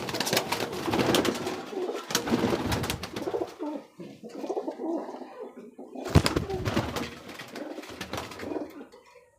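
Pigeons coo in soft, throaty bursts close by inside a pigeon house, several birds overlapping in the enclosed space, with brief pauses between calls.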